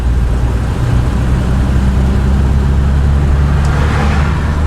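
A classic Chrysler car with a one-shift automatic driving along the road, giving a steady loud engine and road rumble with wind noise throughout.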